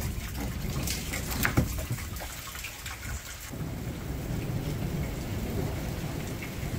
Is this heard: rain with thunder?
yes